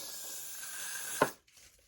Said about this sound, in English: You're going to take that holding spray and you're going to spray this area that's open.